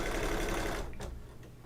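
An embroidery machine runs a fast, steady stitching chatter while quilting the background of an in-the-hoop gnome mug rug, loud at first, then stopping and leaving a few soft clicks and handling noises.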